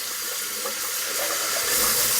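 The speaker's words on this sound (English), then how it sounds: "I'm just going to flip it to hot water" Hot water runs steadily from a tap into a cup, a continuous close hiss and splash that grows slightly louder toward the end.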